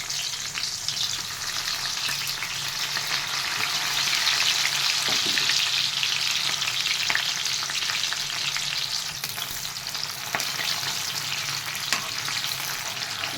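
Onion and green chilli fry in heated oil in a kadai for a village-style brinjal curry, giving a steady, close sizzle with occasional stirring clicks and scrapes, and no speech.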